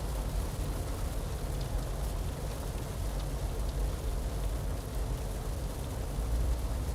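Steady rain falls on a farm where wheat has been drilled and water is standing in the fields: a continuous, dense hiss that stays even and fairly loud throughout, with no voices.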